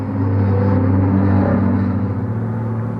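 A Ferrari 488 race car, number 50, enters the pit lane mid-race at Magny-Cours, its engine a steady, loud low rumble with a slight rise and fall in pitch, heard close and continuous without any talk.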